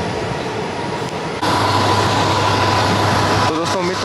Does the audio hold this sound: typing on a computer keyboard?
no